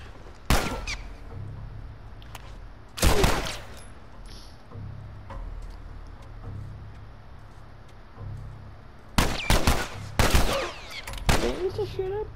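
Gunshots in The Last of Us, loud close bursts arriving in clusters, one early, one around the first third, and a rapid string near the end, separated by quieter stretches of low ambient rumble.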